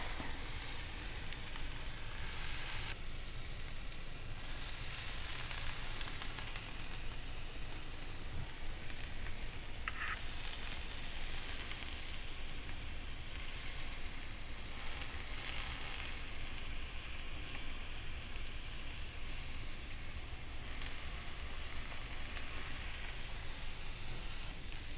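Shrimp skewers sizzling on a hot griddle over medium heat, a loud, dense, continuous frying hiss and crackle held steadily throughout, with a few faint clinks over it.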